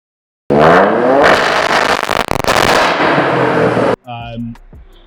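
Toyota Yaris GR with a straight-through exhaust and turbo boost turned up to 2 bar revs hard and loud, a booming, crackling roar held for about three and a half seconds before cutting off into quieter pops and burbles.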